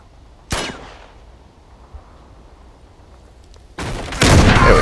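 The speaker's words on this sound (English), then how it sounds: "Shoot the lock." Gunfire from the video game Uncharted 2 as a lock is shot: one sharp shot near the start, then a loud burst of rapid shots at the end, with quiet game ambience between.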